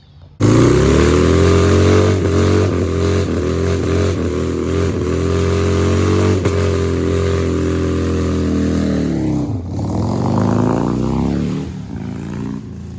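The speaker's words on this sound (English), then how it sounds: "I'll show you the video of me burning off that old tire right here" A Harley-Davidson Sportster 1200 does a burnout to burn off an old rear tire, its V-twin revving loud and close in a long sustained roar with rhythmic pulses that drops briefly near the end, rises again, then eases off.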